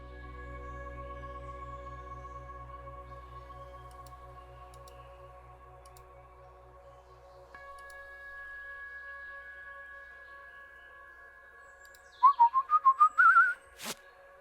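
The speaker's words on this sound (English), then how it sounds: "I think he really whistles different melodies." A character in the video game Trüberbrook whistles different melodies in a clear, steady tune over a low hum, followed near the end by a quick run of sharp clicks and a brief burst.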